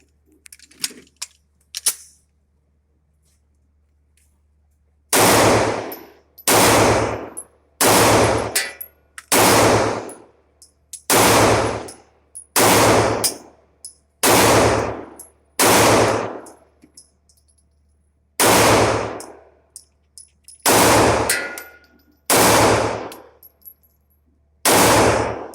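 SAR USA B6C 9mm compact pistol firing a mixed magazine of hollow points, a steady string of loud, close, evenly spaced shots with ringing metallic tails after a few faint clicks.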